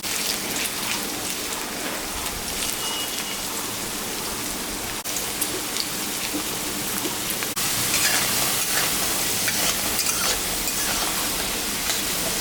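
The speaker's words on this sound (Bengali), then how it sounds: "আলুটা ভাজা হয়ে গেছে" Potatoes fry with two dried red chillies in hot mustard oil in a home kitchen pan, giving a steady, dense sizzle and crackle that runs loud and continuous throughout, with no talking.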